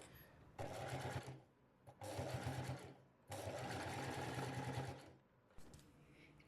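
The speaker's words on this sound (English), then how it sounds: "For a clean and professional finish, I also top stitched around the top edge of the basket." A sewing machine top stitches around the top edge of a reversible fabric storage basket, running in three long steady bursts separated by short pauses.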